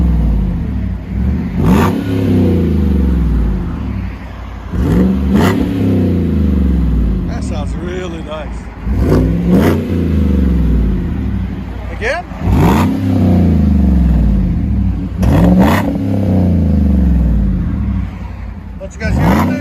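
A GMC Sierra with a 5.3L V8, resonators and the stock muffler cut off and a Magnaflow performance muffler fitted, revs in five loud, deep exhaust bursts spaced a few seconds apart over a steady idle rumble, while people talk nearby.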